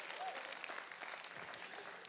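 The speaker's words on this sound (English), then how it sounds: "Give yourselves a round of applause" A magic show audience applauds together in a theater, a steady, fairly faint patter of clapping spread through the room with a few crowd sounds beneath it.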